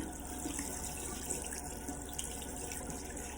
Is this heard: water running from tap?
yes